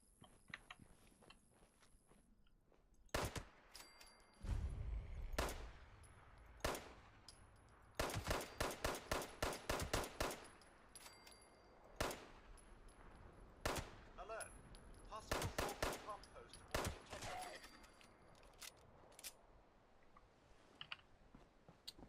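Rapid gunfire bursts and single shots in the online shooter Fallout 76, sharp and fairly close, coming in clustered volleys across the stretch with brief gaps, over faint background game sounds.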